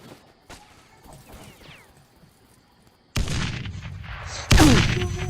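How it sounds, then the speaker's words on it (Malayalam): A grenade goes off in a shooter video game as a loud, sudden burst that follows quieter scattered game sounds, then a second, even louder blast rumbles on to the end. "ഓന്റെ തൊട്ടടുത്ത് ഗ്രനേഡ് വീണടേ."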